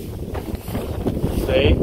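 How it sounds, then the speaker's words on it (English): Gusty winter wind buffets the microphone in low rumbling bursts on the ice of the Tanana River, Alaska, loud and close, with a brief spoken word over it. "Sorry about the wind, y'all. It's a windy day today."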